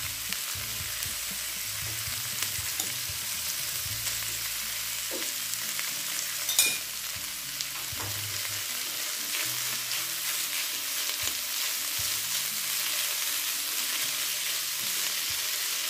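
Sautéed button mushrooms fry in a pan, giving a constant dense sizzling hiss with occasional soft scrapes of stirring, close and steady throughout, with no voices.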